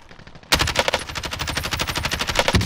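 Video game gunfire erupts after a short lull into a rapid, sustained automatic burst, a dense steady rattle of shots lasting a couple of seconds, loud and close with no talking over it.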